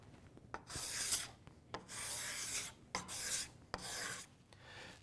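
A card scraper drawn across wood in repeated strokes, each a raspy, hissing scrape of about a second with short pauses between, close and moderately loud.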